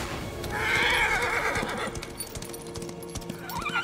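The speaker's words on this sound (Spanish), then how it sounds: "ya puedo invocar a mi caballo" A summoned horse in Darksiders 3 gives a loud whinny, followed by a rapid clatter of hooves, with game music and effects running underneath.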